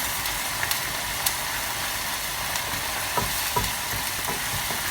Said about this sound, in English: your prawns in the butter. Basically just heating them up a bit.